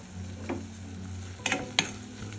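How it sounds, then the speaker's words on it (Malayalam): Tamarind is cooking in a hot pan under a faint, steady sizzle with a low hum behind it. Three short stirring scrapes stand out, quiet and close. "ഇടയ്ക്കിടക്കൊന്ന് തുറന്ന് നമുക്ക് ഇളക്കി കൊടുക്കാം"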